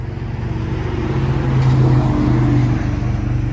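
A Chevy Malibu with a 1.5L turbo engine and a muffler delete revs up, a loud, close, low droning exhaust note that rises and swells briefly before settling, with no speech over it.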